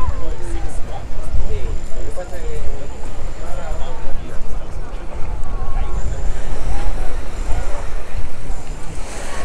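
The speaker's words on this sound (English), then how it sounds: "But it's a very beautiful beach." Waves wash onto a busy beach at Cala d'Or, Mallorca, a loud, continuous surf roar mixed with heavy wind buffeting on the microphone and the murmur of people nearby.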